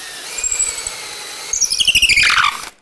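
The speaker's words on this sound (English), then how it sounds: "So here, I'm going to be in forward mode going down." A cordless drill runs in forward mode as it bores down through metal, starting with a steady whine and then giving a rapid, rhythmic grinding chatter with a high squeal before it stops abruptly.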